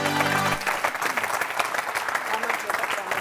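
Applause greets guests arriving at a comedy-show congress, a lively crowd clapping steadily after a brief sustained brass note at the start, with voices underneath.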